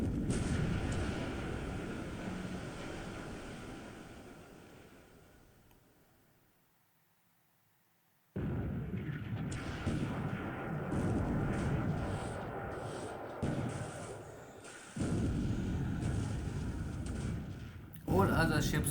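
Heavy naval gunfire and torpedo-hit blasts in a War in the Pacific battle replay, with dense booming bursts that fade to near silence and then return as sustained loud rumbling impacts.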